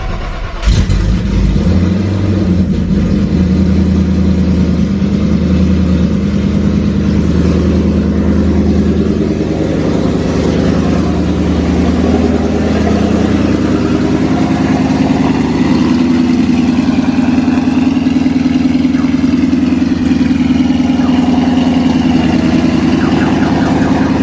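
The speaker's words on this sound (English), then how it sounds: "So cold start with the open headers," A 1,200 hp wide-body Shelby GT500 Mustang cold-starts on open headers: a sharp crank and bark, then a loud, steady, rumbling idle with slight revs that fills the whole stretch up close.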